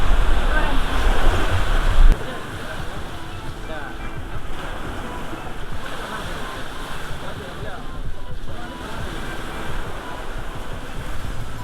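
A steady roar of ocean surf washing onto a shore at high tide at Batu Kalang beach, Pesisir Selatan, mixed with gusty wind buffeting the microphone, loud and continuous throughout.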